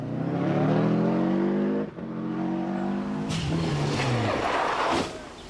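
A Ford Sierra rally car on a special stage drives close by with a loud, continuous engine note that revs, drops briefly around the two-second mark, then pulls on with gravel spray before the sound falls away.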